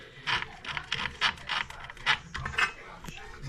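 Wrench tightening the floor bolts on a porcelain toilet during installation, giving a series of short, close ratcheting clicks in quick bursts, with no one talking.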